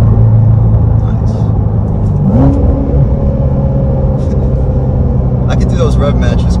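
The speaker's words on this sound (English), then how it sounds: "It sounds so good when it blips that throttle." A sports car engine held in sport mode, heard from inside the cabin as a loud, steady drone, with throttle blips rising in pitch on downshifts and someone talking over it.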